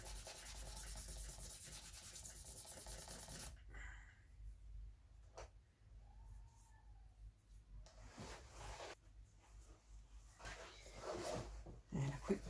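Fine 2500-grit sandpaper rubs across a violin bridge in soft, steady strokes, first a continuous scratchy hiss and then quieter intermittent rubbing, close up and faint with no talk.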